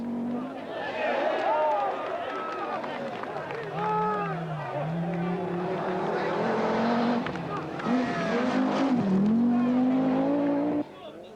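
Four-wheel drive Audi Quattro rally cars race over gravel stages at the 1983 Portugal Rally, their engines revving and shifting pitch under continuous commentary, with a sustained loud drone throughout.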